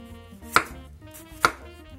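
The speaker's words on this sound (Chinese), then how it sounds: "首先，土豆刨皮切丝" A knife cuts a peeled potato on a cutting board, shaving it into thin pieces for shreds. Two sharp, crisp strikes land about a second apart, close by, in near silence.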